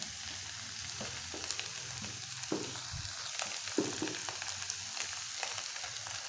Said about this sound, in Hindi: 2 टेबलस्पून मैदा डालने के बाद अच्छी तरह से मिक्स करके इसकी मैं बुनाई करूँगा